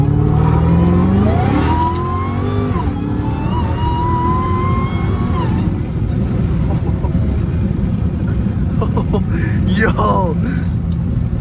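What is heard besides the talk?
Hellcat Redeye car engine accelerating on canyon run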